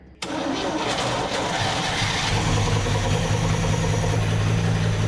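A 1976 Chevrolet Scottsdale K20 4x4 pickup, abandoned for 20 years, cranks and fires after a short silence, then settles into a loud, steady, close idle with a faint bottom-end knock.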